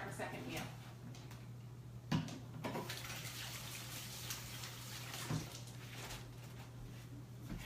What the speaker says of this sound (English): Let me wash my hands real fast